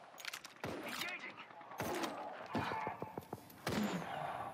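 Triple Take sniper rifle shots in a shooter game, several sharp separate cracks spaced over a few seconds, fairly quiet, with someone talking between and over them.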